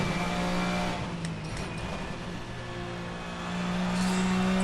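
A VRC touring car engine revs in the Assetto Corsa racing game, a sustained, close, humming drone that eases off slightly and then climbs again as the car accelerates out of a corner.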